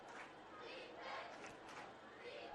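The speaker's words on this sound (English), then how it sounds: "You hear the crowd chanting defense" Crowd at a Linton vs. Boonville high school football game chanting for defense, a steady rumbling mass of voices with rising swells, heard from a distance without a clear individual voice.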